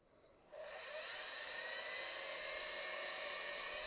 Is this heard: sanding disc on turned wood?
yes